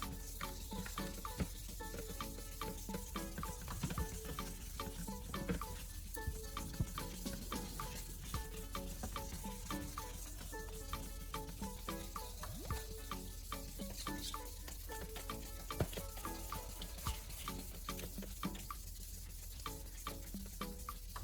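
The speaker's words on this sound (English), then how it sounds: "You can see the water running down, looks slightly cloudy, and that is the oxidized plastic being sanded away." An oxidized plastic car headlight is wet sanded with P1000 sandpaper under running water, a steady close scratchy hiss with constant watery swishing and no voices.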